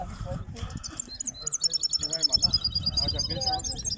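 Songbirds singing at a silvestrismo bird song contest in Cartagena, bright trilling and chirping phrases rising above close conversation in Spanish, with a sustained warbling run near the middle.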